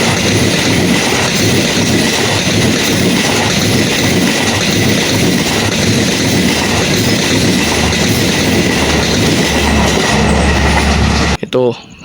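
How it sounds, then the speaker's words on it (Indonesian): The Tawang Jaya passenger train departs Jatibarang station in Indonesia, a loud, continuous rumble of rolling wheels and rail clatter filling the whole stretch up close before cutting off abruptly. "Itu dia kereta api Tawang Jaya barusan berangkat stasiun Jatibarang."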